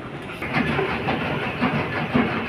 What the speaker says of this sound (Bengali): চলে গেল ট্রেনটা মাত্র 1 সেকেন্ড 2 সেকেন্ডের জন্য পেলাম না